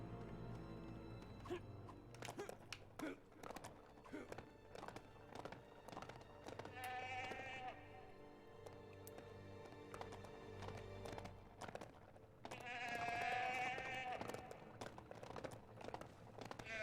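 Sheep bleat in the Lego The Hobbit video game, a few wavering calls rising over busy game sound effects with clip-clopping hooves and background music.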